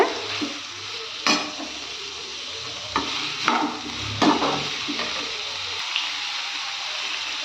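Ginger garlic paste sizzles in hot oil as it is stirred, a constant close frying hiss broken by several sharp scrapes and clinks of a utensil against the pan.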